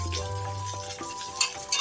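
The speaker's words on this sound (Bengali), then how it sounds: "কাজুগুলো ভাজা ভাজা হয়ে গেছে ভিজিয়ে রাখা কিসমিসগুলো দিয়ে দিলাম" Cashews and soaked raisins fry in a pan for a vegetable fried rice, a steady close sizzle with occasional stirring scrapes and a background tonal hum.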